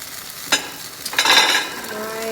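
A buffalo chicken quesadilla sizzles in a hot pan, steady frying hiss punctuated by a quick clatter and a louder scraping burst as it is moved, close and with no talk.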